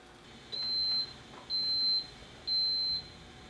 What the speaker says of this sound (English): my waffle iron has an indicator that will beep